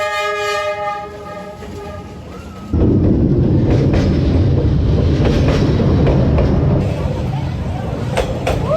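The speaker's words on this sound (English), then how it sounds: "Train coming." A train in Hanoi sounds its horn with a sustained, tonal blast, then passes close by with a loud, dense rumble and clatter of wheels that continues to the end.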